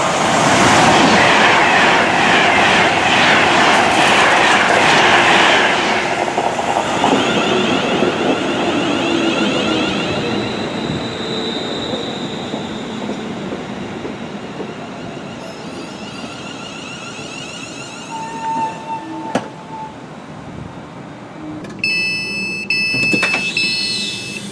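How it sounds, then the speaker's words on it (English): A passenger train on a Scottish suburban line pulls into a station, loud and close at first with rumbling wheels and clatter, then slowing and fading into a quieter hum with brief squeals and beeps near the end. "So our first train to take us on the road to Scotland is arriving now to pick me up."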